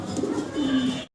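A black shouking pigeon coos close by in two low, rolling calls in quick succession, then the sound stops abruptly.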